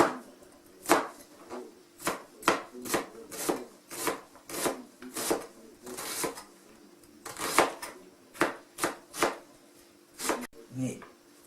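A knife chops dill, parsley and onion on a board for a radish and carrot soup, with about twenty sharp, close strokes in a steady, slightly uneven rhythm.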